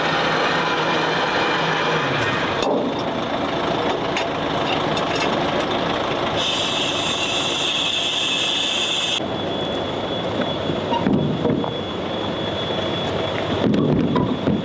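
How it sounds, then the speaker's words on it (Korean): Compressed air is blown through a tanker truck's pipes to clear leftover chemical, producing a steady rushing hiss over a rumbling idling engine, with a sharper high-pitched burst of air partway through. "지금은 에어를 불어서 배관에 있는 잔량을 다 제거하는 작업을 하고 있습니다"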